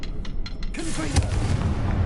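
A Confringo spell blast goes off in the Hogwarts Legacy video game: a sudden loud boom after a few sharp clicks, followed by a rumbling, crackling tail that stays loud to the end.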